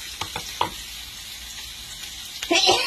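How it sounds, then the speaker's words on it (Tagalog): Onions sautéing in a pan for pinakbet, a Filipino vegetable dish, with a soft steady sizzle broken by a few clicks and stirring scrapes, then a louder burst of frying near the end. "Binisa ko muna yung sibuyas"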